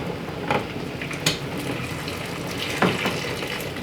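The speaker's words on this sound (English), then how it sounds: "And I just drain out the liquid." Hot liquid drains from a pot of chili sauce, a steady close pouring trickle with a few louder splashes and clinks of the pot.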